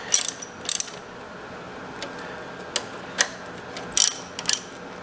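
Ratchet clicking in short bursts as a fuel pump fitting is loosened and then retightened during installation of an AMS high pressure fuel pump on an Infiniti Q50/Q60, with several separate bursts and single ticks, close and fairly quiet.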